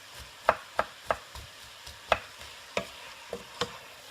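Onions cooking in a pan for onion soup, with a spoon stirring them in a quick series of sharp scrapes and taps over a faint, low sizzle; quiet and close, with no talking.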